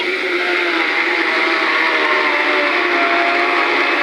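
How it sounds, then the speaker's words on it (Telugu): A mixer grinder runs steadily with a loud, continuous whirring whine, blending jaggery syrup with cardamom, close and unbroken with no talk. "మిక్సీ పట్టుకోవాలండి"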